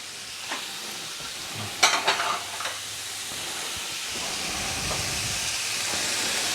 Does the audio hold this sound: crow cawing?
no